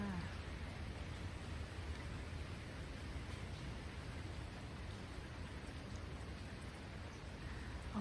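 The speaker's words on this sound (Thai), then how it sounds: "เอาบรรยากาศฝนตกมาให้เบิ่งมาจ้ะ" Steady morning rain falling near a lake island shore, a continuous even hiss of drops throughout with no breaks, moderately quiet and close.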